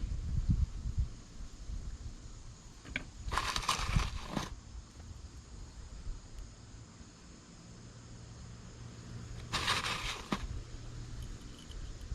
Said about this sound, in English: pretty windy here today as well